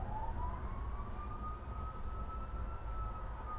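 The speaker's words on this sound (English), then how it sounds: "I think that's the ambulance going nonstop." An ambulance siren wails outside in a steady, slowly rising tone, distant and faint beneath a low background rumble, with no one talking.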